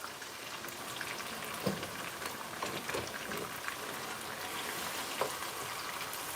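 Ginger, garlic, onion and habanero pepper blended together and sauteing in a pan for a fried chicken stew, giving a steady dense sizzle throughout with a few faint clicks and no talk.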